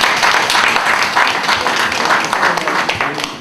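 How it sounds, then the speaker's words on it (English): A summit and book presentation audience applauding, dense loud clapping that holds evenly from start to finish and tapers slightly at the close. "Please make the applause loud."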